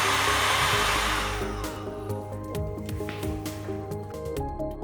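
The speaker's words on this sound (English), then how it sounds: "Then use a heat gun to blow the tubing." Heat gun blowing steadily on heat-shrink tubing over a crimped battery cable terminal, a loud close whooshing airflow with a tonal hum that eases slightly in strength, under faint tapping.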